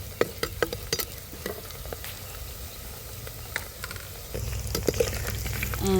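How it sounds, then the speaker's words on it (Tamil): Green chilies and onions sautéing in oil for a scorpion fish curry, a steady close sizzle punctuated by stirring taps and spatula clicks, growing louder and fuller in the last seconds, with no speech. "இப்போ இந்த பச்சை மிளகாயும் வெங்காயமும் வதங்கட்டும்"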